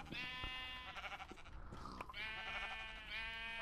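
Sheep in the Minecraft video game bleat repeatedly in wavering, harmonic cries, several calls close together and fairly loud, with brief game noises between them.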